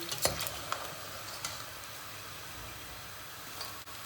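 Steady hiss of potatoes frying in oil, with a few light clinks and scrapes near the start and no talking.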